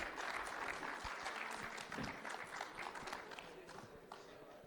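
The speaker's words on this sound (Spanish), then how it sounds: "pasen un aplauso muy fuerte para ellos" Audience applause at a Spanish-language HealthTech talk after speakers are introduced, a dense wash of many hands clapping at moderate level that holds steady and thins slightly toward the end.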